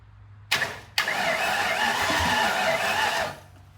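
A car engine is cranked over by its solenoid: two sharp clicks open it, then a sustained mid-pitched whirring crank runs for about two seconds before cutting off, close and fairly loud, with no speech.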